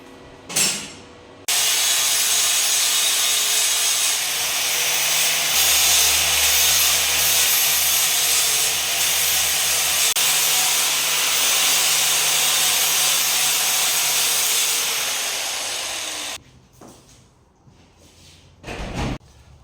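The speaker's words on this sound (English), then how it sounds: "I'll get the flat disc on it now, clean it up, see how it looks" A flap disc grinds TIG welds on the frame of a 1996 Yamaha YZ250, giving a loud, steady abrasive whine for about fifteen seconds, followed by quieter clatter and a few knocks.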